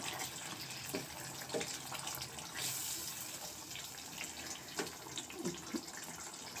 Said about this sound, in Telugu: చింతపండు నానబెట్టుకున్నాం కదా, ఈ జ్యూస్ ఇందులో వేసేద్దాం.